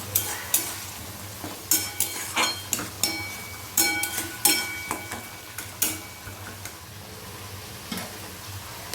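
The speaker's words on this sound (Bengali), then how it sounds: "একটু খুন্তির সাহায্যে এভাবে আমি নাড়িয়ে নেব, যাতে সেটা আরও স্মুথ হয়ে যায় পেস্টটা।" Tomato masala paste frying in a pan and stirred with a spatula, producing a soft steady sizzle punctuated by regular, sharp scraping taps of the spatula against the pan, close and without talk.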